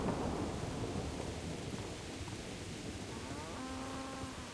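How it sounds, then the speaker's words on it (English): Steady, dense rainfall in the video game Kingdom Come: Deliverance hisses throughout with a low rumble underneath, close and even. "Turn it and it starts raining."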